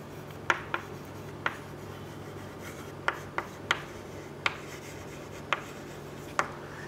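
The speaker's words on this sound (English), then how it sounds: "So I'm writing over here." A pen writing on paper or a board during a biology lesson, scratching in short, crisp strokes at an irregular pace over a steady low hum, close and fairly quiet, with no talking.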